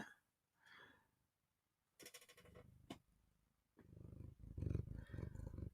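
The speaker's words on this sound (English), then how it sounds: "Yes, she's purring away." A cat purrs close to the microphone in soft, rumbling bursts separated by quiet gaps, growing louder toward the end, with a few faint clicks between.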